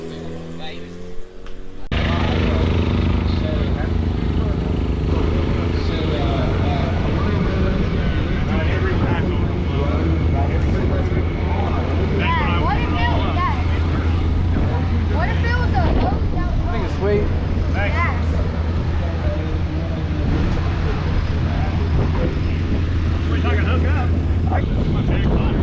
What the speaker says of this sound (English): Trusty old sport touring FZ1.